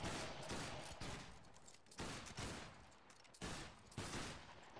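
Musket volley fire in the line battle game Battlegrounds 3, several distant crackling volleys of many shots each, arriving at intervals of roughly a second with a rumbling tail, fairly faint overall.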